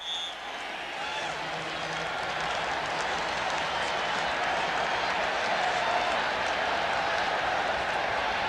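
Football crowd in the Kingdome, Seattle, during a 1989 Phoenix Cardinals at Seattle Seahawks game, a steady broad roar of cheering and clapping that swells slightly and holds for several seconds.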